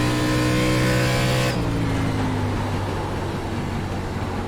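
An ARCA Menards Series stock car in iRacing at Phoenix Raceway roars loudly and steadily, its engine pitch falling sharply as the driver lifts for braking, then droning on at a lower, rougher note.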